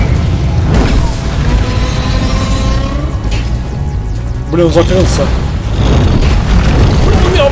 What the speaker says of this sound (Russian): Блин, что там взрывается?